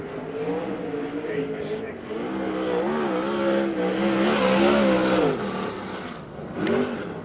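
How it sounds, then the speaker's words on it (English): A sprint car on a racetrack during qualifying, its engine droning and wavering as the driver plays with the throttle, heard from a distance under a commentator's voice. "hear him play with the throttle out there on the racetrack"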